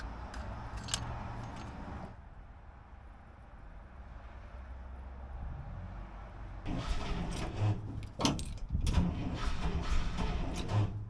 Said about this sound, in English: Let's put a little gas in the carb and see if we can get a run